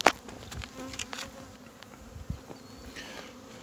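Honey bees buzz steadily inside an opened Cordovan hive, a soft, continuous drone with a few louder fly-by swells.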